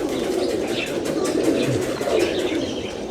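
Tohfa-breed pigeons coo repeatedly nearby in soft, throaty rolling calls, with occasional chirps and faint background voices.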